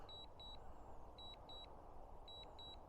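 A drone on return-to-home emits pairs of high, thin electronic beeps, repeating three times in a regular rhythm, faint over a low steady background hum.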